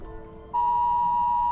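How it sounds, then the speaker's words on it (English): A phone alert sounds as a single sustained electronic beep starting abruptly and holding steady over a quiet background. "My phone was giving me an alert."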